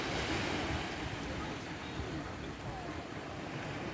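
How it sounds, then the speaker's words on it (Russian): Constant roar of sea surf on a Thai beach during a thunderstorm, with a rushing windy wash, steady and moderately loud, no clear breaks between waves. "Море шумит."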